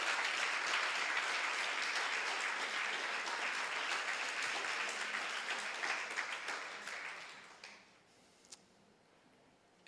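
Church congregation claps steadily in a long, even wash of applause that tapers off near the end, leaving a few scattered claps in near silence.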